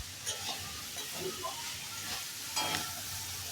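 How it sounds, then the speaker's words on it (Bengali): Boiled noodles for veg chowmein being stirred and tossed in a hot pan, a soft steady sizzle broken by scraping strokes of a spatula, close by and without speech. "এটাকে ভালোভাবে খুলে আবার নেড়ে নেবে। নেড়ে নিচ্ছে ভালোভাবে।"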